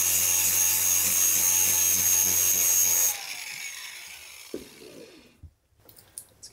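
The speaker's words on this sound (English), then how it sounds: "After 20 minutes of grinding down the outside of the socket with a very dull feathering blade" A dull feathering blade grinds down the outside of a metal socket, a loud steady abrasive whine that runs for about three seconds, then drops away to quieter scraping and a few scattered knocks.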